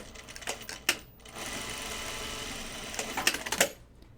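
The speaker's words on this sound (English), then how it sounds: "Sew those in a 1/4-inch seam." A sewing machine stitches a quarter-inch seam on fabric pieces in two short, quiet bursts of rapid mechanical whirring, with small clicks and thumps around the pauses.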